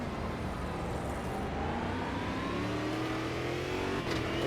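A racing car engine in the sim game Automobilista 2 drones steadily and revs upward in pitch, loud and continuous, with no talking.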